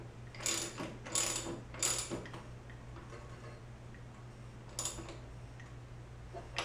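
A hand ratchet snugs up fork parts on a Royal Enfield motorcycle, giving a few short bursts of rapid clicking separated by quiet pauses over a low steady hum.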